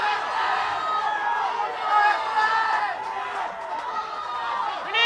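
Wesley College supporters cheer and shout at a schoolboy rugby cup match, a dense, steady roar of crowd voices throughout, with a commentator talking over it.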